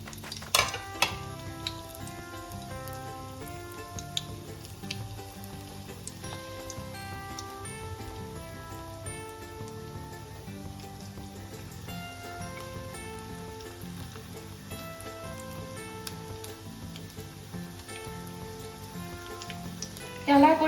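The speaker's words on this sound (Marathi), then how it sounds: "आता ह्या आपण मोठ्या ज्या आहेत हे आता आपण तेल गरम करून घेतलंय," Methi muthiya dumplings deep-fry in hot oil, a steady faint sizzle running throughout under background music, with a few clinks of utensils.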